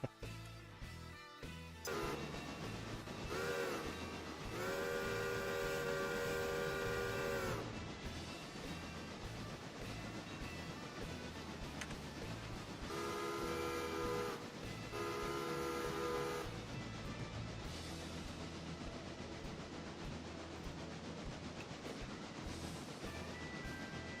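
Train passing on a railroad: a continuous heavy rumble of rolling wagons runs throughout, broken by two long, loud horn blasts, the first lasting several seconds and the second shorter, with no talking.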